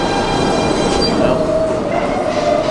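A New York City subway train runs loudly, its steady rumbling clatter filling the car while a high wheel squeal rises and holds through the middle and end.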